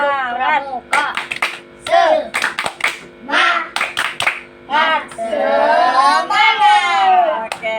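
Rhythmic group clapping in a physical-education micro-teaching class, sharp claps in a set pattern alternating with children's voices chanting along, loud and close.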